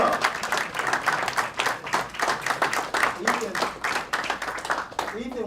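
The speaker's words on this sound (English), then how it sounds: "you guys all stand up and give him a round of applause" A room full of people stand and applaud together, dense clapping and cheering running steadily throughout at close range, with voices calling out within the crowd noise.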